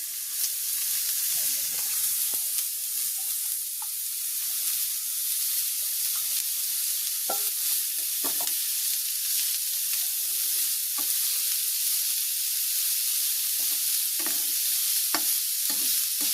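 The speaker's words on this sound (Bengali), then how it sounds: "এখন আমি এই যে পাতাকপিটা কুচি করে রাখা হয়েছিল আর কি, ওইটা আমি দিয়ে দেবো পাতাকপিটা" Finely chopped cabbage sautéing in a pan for vegetable momos in a village kitchen, a continuous close hiss of frying with scattered soft knocks and scrapes from stirring, no voices.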